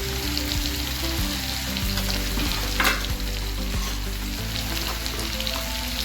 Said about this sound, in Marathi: हे सगळं परतून घ्यायचं चांगलं